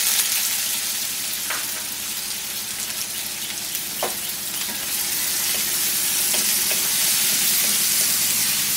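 Chopped onions hitting hot oil with whole cumin and garam masala for a Bengali chicken curry, a loud continuous sizzle and hiss with occasional stirring clicks, close up and steady throughout.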